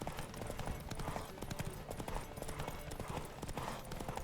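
Rapid rhythmic hoofbeats of a galloping horse in a Witcher 3: The Wild Hunt horse race, steady and fairly loud, with a busy synthetic game-like backdrop and no talking.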